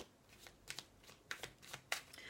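Tarot cards handled and laid down on a table during a reading, a series of soft papery slaps and sliding flicks, several distinct card placements in quick irregular succession, close and quiet, no talking.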